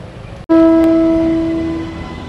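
A passing train hauled by a WAG12B electric locomotive on a line near Asansol sounds a loud, sustained horn that starts abruptly and fades slowly over a rumbling wheel-and-track bed.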